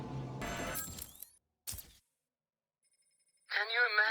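In Batman: Arkham City, a payphone rings in short bursts amid clattering game sounds, with silent gaps between, then a voice speaks at the end.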